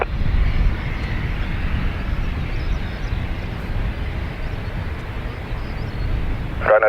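Jet aircraft on the north runway at Dublin Airport, a loud, steady low engine roar held throughout as if taxiing or lining up nearby, with a brief sharper burst at the very end.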